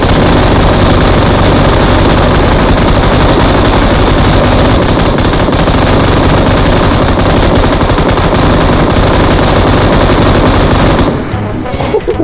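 M249 machine gun in PUBG Mobile firing a long, unbroken, very loud close-up burst of rapid shots that ends abruptly near the finish.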